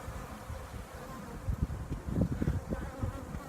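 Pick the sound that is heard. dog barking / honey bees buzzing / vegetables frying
honey bees buzzing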